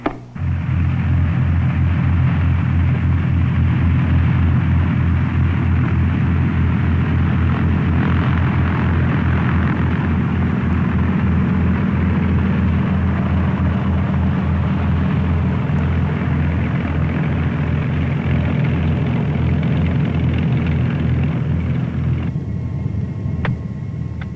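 A Commander light aircraft taxiing to the terminal ramp gives a loud, steady, close engine drone that holds constant for the whole stretch with no voices over it.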